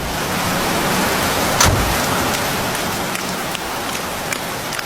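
Heavy rain pours down steadily, a dense, continuous hiss of drops striking surfaces close by, with one brief louder thump partway through.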